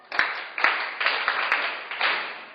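Sparse, uneven clapping from a small class in a lecture room, a handful of separate claps landing over a couple of seconds, fairly faint with room echo.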